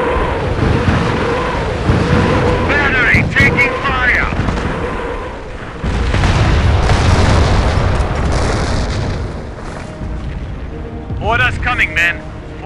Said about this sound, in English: Barrage underway. Battery taking fire.